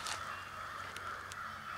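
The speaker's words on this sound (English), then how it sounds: "Crows are going crazy." Crows caw from the woods during a spring turkey-scouting outing, a few short harsh calls spaced apart and fairly faint over a quiet outdoor hiss.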